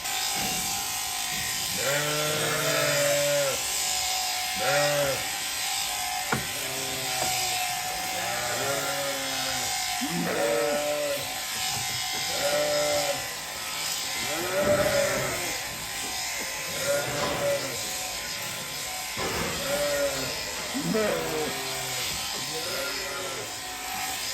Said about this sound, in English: We've got Ben who's shearing for us.